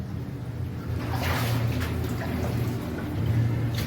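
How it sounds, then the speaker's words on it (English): Underground in an old Roman lead mine, a waterfall rumbles as a steady, hollow wash of water. It is mixed with nearer splashing and trickling that rises and falls. "Hear the rumble of the waterfall at the end."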